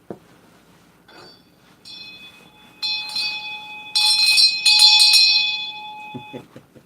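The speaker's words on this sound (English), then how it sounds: "that would be worth ringing the bell" A small bell rings several times, its bright metallic tones overlapping and ringing out before fading, close and clear with no talk.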